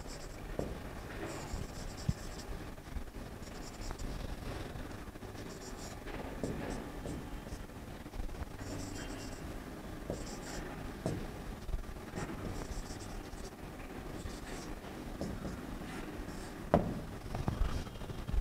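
Chalk or marker strokes writing an equation on a board during a lecture, a steady series of soft scratching and tapping strokes, close and moderately loud against faint room noise.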